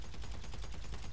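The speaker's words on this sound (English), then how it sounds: "Wait, 21 gun salute." Gun salute fired in the video game GTA: a dense, loud volley of rapid gunshots that rattles along in a steady, continuous burst for about a second, with no talking.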